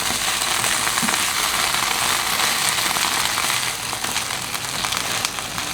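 Tomato paste sizzles in a pan over a low stove flame, a steady hissing, crackling fry that runs continuously and fairly loud, with no voices.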